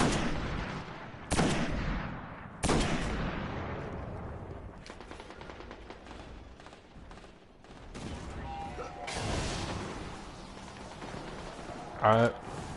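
Rapid gunfire from a Bungie first-person shooter video game, with dense bursts of shots and loud blasts at the start and around the ninth and twelfth seconds, all under a continuous mix of game sound and chatter.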